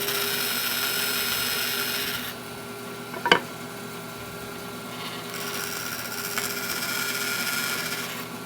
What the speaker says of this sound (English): we're going to turn the saw on, and we're just going to make a real, maybe 1/8 of an inch cut